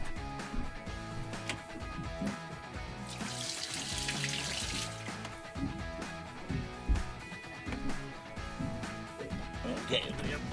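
Water gushes and splashes from a trawler's water line, with a louder burst of flow partway through amid clattering handling noises.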